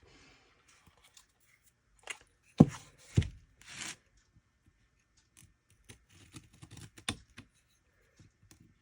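A blade slices through paper in short, scratchy strokes, a few sharper cuts separated by pauses, close and quiet with no talking.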